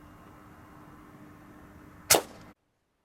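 A single sharp air rifle shot from a 510 and 008 combo cracks once during a ratting session, a short loud snap over a quiet hiss before the sound cuts to silence.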